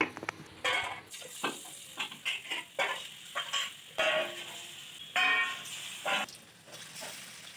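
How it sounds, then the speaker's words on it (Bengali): Chana dal dhoka pieces deep frying in hot oil in a kadai, a steady close sizzle broken by short bursts of bubbling and stirring scrapes, with no voices. "কড়াইতে তেল গরম করে সেগুলোকে ডিপ ফ্রাই করে নিতে হবে ভালোভাবে"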